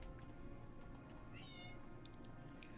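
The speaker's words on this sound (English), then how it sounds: "I hear a cat." A faint cat meow rises briefly over a steady low hum and background noise, with no one speaking.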